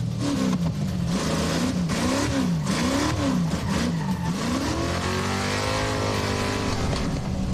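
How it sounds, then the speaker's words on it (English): A high-revving V8 in a 1974 AMC Javelin Trans Am race car revs hard and loud at a racetrack, pitch climbing and dropping through repeated gear changes, then settling into a sustained high drone. "With this old school high revving V8, sounds nasty."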